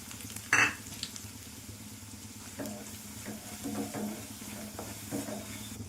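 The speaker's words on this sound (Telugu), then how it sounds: "తాలింపులు ఎగాక ముందుగా వేసుకున్న వెల్లుల్లి కారాన్ని వేసుకోవాలి" Garlic chili powder dropped into hot oil with tempering spices, dried red chilies and curry leaves, one sharp clatter at the start, then a faint, steady low sizzle with light stirring, no talking.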